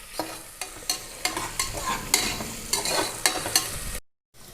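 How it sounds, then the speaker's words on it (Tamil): Onions with mint and coriander leaves sauté in a pan under repeated stirring scrapes, with a busy sizzle between strokes. The sound is close and lively and cuts off just before the end. "இது கொஞ்சம் நேரம் 2 நிமிஷம் வதங்கணும்."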